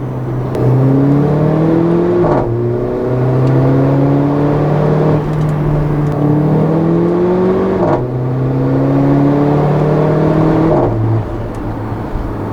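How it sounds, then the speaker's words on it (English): A 2015 Mercedes-Benz GLA 45 AMG accelerates hard through several gears. The turbo engine climbs in pitch in repeated rising sweeps, with loud, close whooshes of boost venting at each shift. "This thing makes really great turbo noise. You can tell it's venting off a lot of boost."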